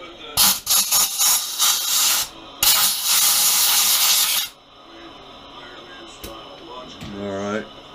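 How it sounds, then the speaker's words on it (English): Two bursts of hissing aerosol spray, close and loud, followed by quieter background noise and a short squeaky rub near the end. "let me spray this area out"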